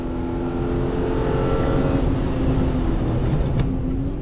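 A BMW E36 M3 engine on a race track, loud and close, with a steady sustained drone as the car holds speed, ending in a few short higher blips.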